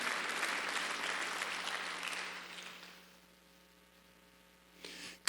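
Congregation applause during a Sunday church service, a few seconds of moderate clapping that fades away into a quiet stretch with a low electrical hum, followed by a brief noise near the end.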